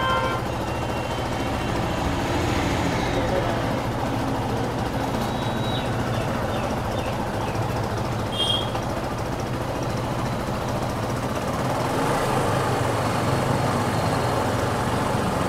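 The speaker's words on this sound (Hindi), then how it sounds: "तो फ्रेंड्स आरपीएम हम लोग हाई हो चुकी है" A TVS Apache RTR motorcycle engine running at high rpm, a steady loud drone with a constant low hum and no change in pitch, heard close with no talking.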